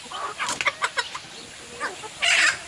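Chickens on a small provincial poultry farm cluck in a quick series of short, near bursts, then a louder, brighter crowing-like call rises at the end; no talking.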